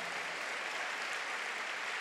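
A church congregation claps together in steady, dense applause, a continuous wash of many hands filling the room for a couple of seconds, with no voices standing out.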